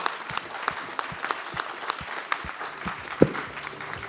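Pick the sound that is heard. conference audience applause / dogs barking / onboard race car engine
conference audience applause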